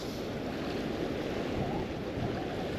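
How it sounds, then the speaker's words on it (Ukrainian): Strong wind buffeting the microphone with rushing, choppy whitecapped water on the Dnipro River beneath, a constant loud roar with no pauses. "От вам і вітер."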